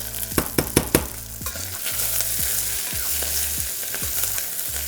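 Onion cooking in a hot pan gives a steady, loud sizzle throughout, with a few sharp clanks of a utensil against the pan near the start and softer scraping taps later, close up and without voices.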